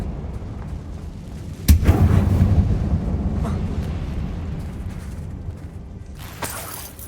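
A Confringo fire spell bursts in a closed mine in the Hogwarts Legacy video game, a sharp blast followed by a rumbling roar that fades, with another crack near the end.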